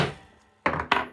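A grommet setting tool is struck twice in quick succession while setting a sewing grommet, giving two sharp, loud, close thunks about a quarter second apart after a brief quiet lead-in.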